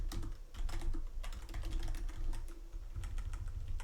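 Quick, uneven clatter of computer keyboard keys being typed in irregular bursts, close and fairly quiet, with no talking.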